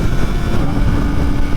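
A Kawasaki ZX-4RR motorcycle engine drones loudly and continuously while riding, a dense low rumble mixed with wind buffeting at the microphone, with no pause across the short stretch.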